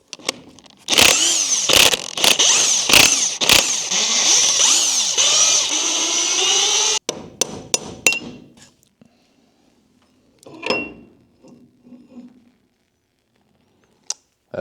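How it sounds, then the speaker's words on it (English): Power tool, likely an impact gun, removing bolts on the end of a full-floating truck axle (14 bolt), loud close bursts of whirring with sharp hits, then quieter clinks and silence. "removing these bolts right here on the end of the axle, because this is a full floating axle, will allow us to be able to pull the axle out"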